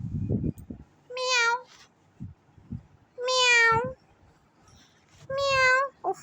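A house cat meows three times in clear, drawn-out calls spaced a couple of seconds apart. The calls are close and loud, with brief rustles and thumps between them.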